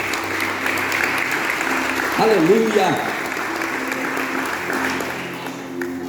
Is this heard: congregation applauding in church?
yes